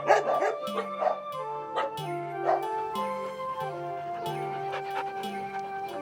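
A dog barks and yips several times, close and loud, with whimpering tones and a steady low whine running underneath.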